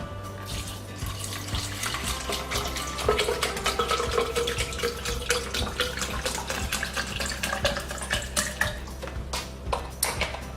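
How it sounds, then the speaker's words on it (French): Coconut water pouring into a container, likely a blender, making a steady liquid trickle that runs the whole time, fairly close and moderately loud, with no talking. "Donc pour cela je vais d'abord mettre de l'eau de coco. Donc on met d'abord le liquide."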